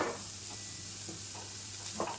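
Quiet steady sizzle of onion, garlic and curry leaves frying in oil, with a few soft stirring scrapes, close but faint and continuous.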